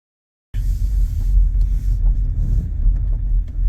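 An MG4 Electric X electric car drives along a road, heard from inside as a steady low rumble of tyres and road noise with some wind hiss, starting abruptly after a moment of silence.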